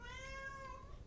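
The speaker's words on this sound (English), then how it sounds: "apologies for my cat, who seems to be yelling a lot right now" A house cat lets out a single drawn-out meow, steady and tonal for about a second, somewhat distant and moderate in level over a faint room hum.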